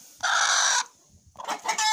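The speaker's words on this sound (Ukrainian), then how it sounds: "так вони розкричалися. Курочки і півники." Hens and roosters on a farm break into loud, agitated clucking and squawking after eggs are gathered, with a sharp burst of calls followed by a brief lull and then more cackling close by.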